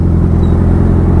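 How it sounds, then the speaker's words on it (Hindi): A motorcycle sits in heavy night-time city traffic in Paharganj, its engine a loud, steady low drone close by with no voices. "अभी देखते हैं, निकलते ही ट्रैफिक में फंस चुके हैं हम।"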